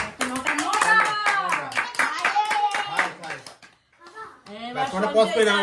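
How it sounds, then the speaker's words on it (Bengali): A group claps hands in a quick, steady burst of sharp slaps during a candle challenge game at home, with children's and adults' voices chattering over it, then a short lull and more voices. "হাততালি।"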